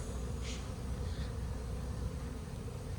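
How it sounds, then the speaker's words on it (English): Honey bees buzz steadily around spring hives near orchards, a dense continuous drone filling the whole stretch at close range, with a couple of brief higher whines as individual bees pass near. "we have all these bees here"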